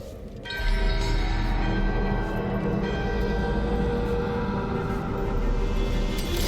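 A bell rings during a ritual in the game Dragon Age: The Veilguard, with loud, sustained metallic tones layered over a heavy rumbling drone that holds steady throughout.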